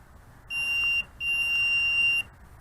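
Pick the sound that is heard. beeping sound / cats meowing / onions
beeping sound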